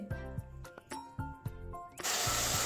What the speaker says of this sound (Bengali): তো তখন সরষেটা পেস্ট করে নেবো, মিক্সিতে পেস্ট করব